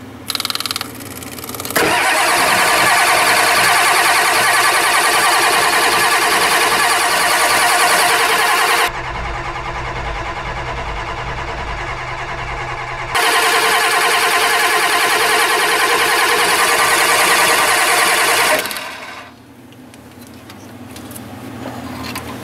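Ford 7.3 IDI diesel engine cranking and firing up on a new injection pump, a loud roaring start that settles into a rough idle, dips, revs again, then drops off near the end.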